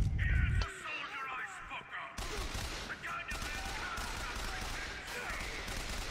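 Shotgun and other gunfire in the video game BioShock Infinite on 1999 Mode, several loud blasts amid combat noise, with a brief burst of talk at the start.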